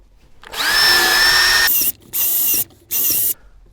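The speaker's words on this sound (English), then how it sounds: "Okay, let's drill our bigger holes." A power drill whirs loudly in one long, steady burst, then two shorter bursts with brief pauses between, close and clear with no talking.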